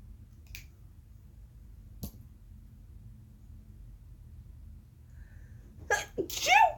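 A quiet hum with a couple of faint clicks, then one sharp, loud sneeze bursts out near the end.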